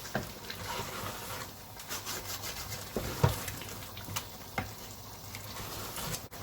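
A wooden spoon scrapes and rubs through chilli con carne in a pot while it gently sizzles. Soft, irregular stirring strokes make a few sharper knocks against the pot.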